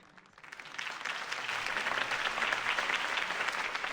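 Crowd applause from the video game Batman: The Telltale Series swells quickly from quiet into a dense, sustained clapping roar that holds steady to the end.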